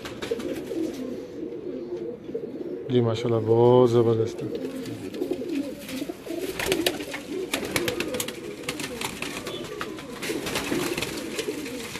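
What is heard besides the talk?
Kamgar pigeon cooing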